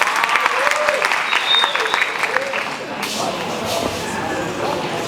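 An audience gives sustained, even applause for a speaker at a lecture on alternative and restrictive diets, a dense wash of many hands clapping without a break for the whole stretch.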